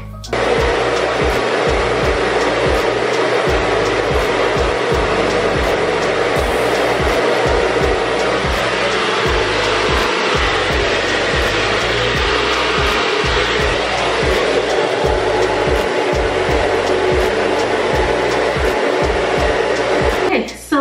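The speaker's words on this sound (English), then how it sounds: "blow dry my hair or set on the dryer to make sure that my roots are dry" A loud, steady hair dryer roars continuously with a low motor hum, blowing close by without a break and with no speech over it.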